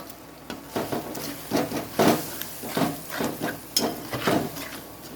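A spatula scrapes and stirs spice paste with cumin, ginger, turmeric and chili frying in a pan, rhythmic knocking strokes over a soft continuous sizzle.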